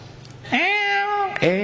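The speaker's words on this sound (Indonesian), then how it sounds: "Kucing lucu." A cat gives two meows: a long, clear, drawn-out one followed by the start of a second, close and fairly loud over light background noise.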